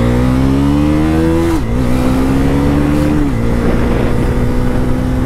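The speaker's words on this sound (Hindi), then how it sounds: "अब जरा पहले मैं चला के देखता हूँ कि क्या रोड मोड पे गियर चेंज करेगी क्लचलेस या नहीं करेगी बाइक" Bajaj Pulsar NS 400Z motorcycle engine in road mode, a loud steady drone with two audible rev drops as it rides along, no voices.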